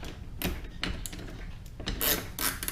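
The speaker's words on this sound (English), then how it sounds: "now it's a matter of just reversing the switch on the ratchet and hold, and it will come loose." A ratchet is switched to release the mainspring of a Kienzle Vienna regulator clock during repair, giving a series of rasping clicks and scrapes at close range.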